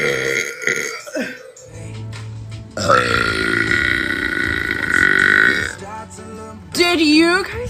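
A woman lets out a long, loud, deep burp that rumbles on for several seconds, close to the microphone, with shorter belches and brief talk around it.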